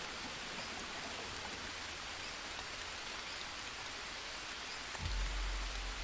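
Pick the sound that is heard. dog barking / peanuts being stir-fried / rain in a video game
rain in a video game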